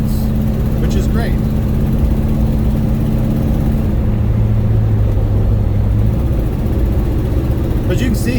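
A 1969 Pontiac GTO fitted with MSD Atomic fuel injection cruises along, its engine holding a steady low drone throughout while someone talks over it.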